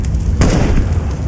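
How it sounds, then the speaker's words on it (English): An incendiary grenade goes off in a tactical shooter game, a loud whooshing burst of flame that flares and then settles into a sustained roaring crackle, close and without talk. "Incendiary out."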